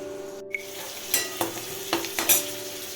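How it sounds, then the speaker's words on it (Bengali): Fish frying in a pan while lentils simmer nearby: a steady soft sizzle with several short scraping stirs and clinks of a utensil, fairly quiet and close, no talk. "মাছটা দিকে ভাজতে দিয়ে দিলাম।"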